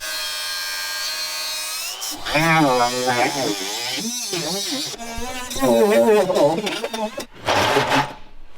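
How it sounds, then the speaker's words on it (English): An electric grinder buzzes steadily as it smooths jagged metal edges in a garage. The whine stands alone at first, then continues under someone talking close by. "I got a few just little jagged edges. I'll grind them up, and this will be ready to install."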